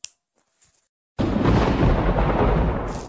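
Lightning spell striking in the mobile game Clash Royale: after near silence, a sudden loud thunderous crash erupts and rumbles steadily for about two seconds before cutting off.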